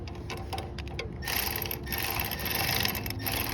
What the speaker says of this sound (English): If you're gonna use a tool to start a bolt, don't go very fast.